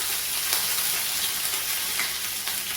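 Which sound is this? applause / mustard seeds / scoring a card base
mustard seeds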